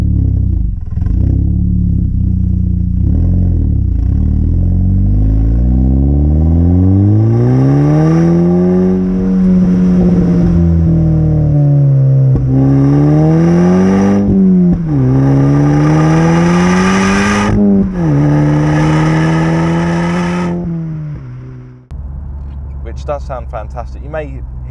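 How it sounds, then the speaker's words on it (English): A stage 1 SEAT Leon Cupra Mk2 with a Cobra non-resonated exhaust pulls hard through the gears, its loud exhaust note climbing and dropping with each shift, recorded from inside the car. "Let's talk about that fantastic Cobra non-resonated exhaust."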